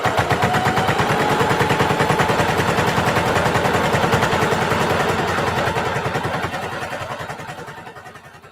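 A sewing machine runs steadily, stitching a fabric handbag made from two half-circles, its rapid needle rhythm loud and close for most of the clip before tapering off and slowing near the end.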